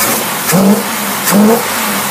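An engine fitted with a Carter AFB carburetor is blipped twice, each rev rising sharply and falling back to a steady idle, heard up close and loud.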